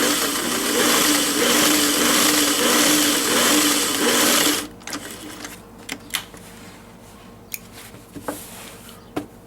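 A sewing machine stitches under the flap of a pillow tag in a steady loud mechanical whir for about four and a half seconds, then stops, leaving scattered small clicks and handling noises.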